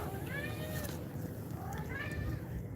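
A house cat meows for treats indoors, giving two drawn-out, rising-and-falling meows close by at moderate volume.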